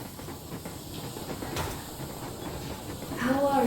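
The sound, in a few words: steam train Yermak moving, from video game Metro Exodus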